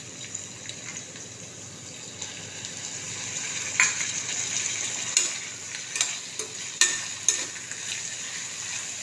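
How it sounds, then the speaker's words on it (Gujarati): Onions frying in a pan for pasta sizzle steadily while a spoon stirs them, with several sharp scraping clatters toward the end, close up and without speech. "કાંદા નાખી દીધા છે, 1 મિનિટ સડવા દેવાના. આ રીતે એકવાર હલાવવાના."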